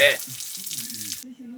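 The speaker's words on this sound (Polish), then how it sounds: "Na dworze taki prysznic." Water from an outdoor shower at a lakeside holiday spot runs in a steady splashing hiss for about a second and then cuts off abruptly, leaving low murmuring voices in the background.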